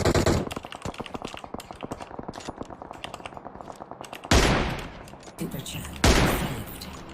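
Rapid automatic gunfire from a shooting video game rattles in a fast continuous burst, followed by a few louder single blasts, with a voice talking over it.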